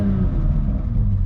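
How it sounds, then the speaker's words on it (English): Steady low exhaust rumble of a car heard from inside the cabin, with the real engine note piped through the speakers; continuous and fairly loud throughout, with no talking. "it's got some fake exhaust note, or not fake, but real exhaust note pumped through the speakers"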